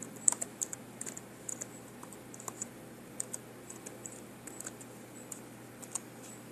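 A password is typed on a computer keyboard at an Ubuntu login prompt, a quiet, close run of irregular key clicks in short bursts over a faint background hush.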